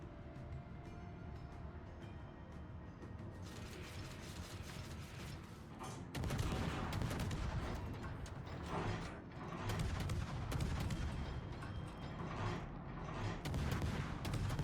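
Warship guns firing in World of Warships, with a French destroyer in play: a faint mechanical hum, then from about six seconds a run of louder, repeated booming salvos and rattling impacts.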